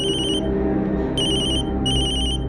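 A phone ringtone plays in short bright bursts of repeating high tones over a steady low background, clear and close.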